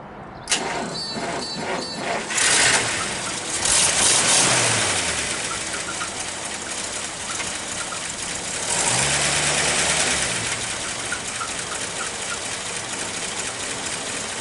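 A car engine, its owner remarking it looks factory-fresh, cranks over with a starter whir, catches and settles into a steady mid-pitched idle that runs on close and fairly loud.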